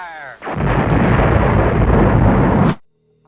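A cannon or artillery-style blast sound effect, a loud, sustained roaring boom that holds for about two seconds and then cuts off abruptly.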